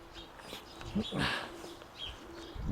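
Pigeons cooing softly at an outdoor pigeon loft, low repeated coos and a few chirps mixed with light wind and distant background noise.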